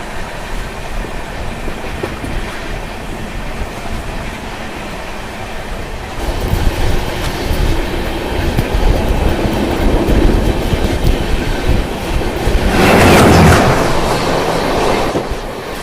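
An Anubhuti class passenger coach runs at over 130 km/h, heard from inside as a steady rolling rumble with rhythmic wheel clatter that grows louder after a few seconds and surges briefly near the end.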